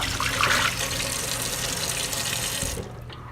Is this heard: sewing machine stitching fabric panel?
no